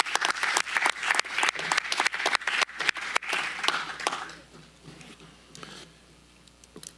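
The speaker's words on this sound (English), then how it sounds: "let's give him a round of applause for an awesome job they did" Applause breaks out at a county supervisors meeting, a few seconds of brisk clapping from a modest room that thins out and fades to scattered claps.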